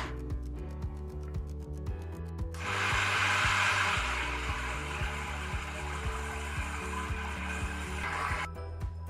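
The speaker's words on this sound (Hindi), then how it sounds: "इन चीज़ों को डाल के मैं दाल को अच्छा सा पीस लूँगी" An electric grinder runs steadily, grinding urad dal with cumin and ginger paste into a batter for dahi bhalla, a broad whirring roar that swells from about 2.5 seconds under a bed of continuous background music.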